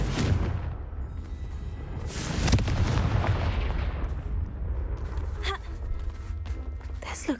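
A Confringo blasting spell in the wizarding game Hogwarts Legacy, a loud burst and fiery boom that decays slowly through rumbling debris, followed by fainter crackles and small flourishes.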